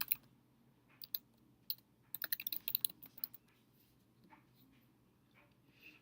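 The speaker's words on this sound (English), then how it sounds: "So I'm going to type in my name." Someone types a name on a computer keyboard, producing sparse key taps that pick up into a quick burst of clicks before slowing again, close and quiet in a still room.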